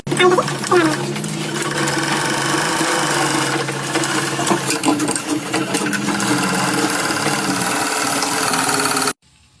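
A sewing machine stitches a katori blouse with a fast, steady mechanical whir that runs close and continuous for most of the clip, then stops abruptly just before the end.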